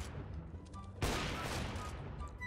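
A loud burst of gunfire in the game CS:GO suddenly cuts in midway and fills the rest of the moment, dense and sustained, over quieter game sounds beforehand.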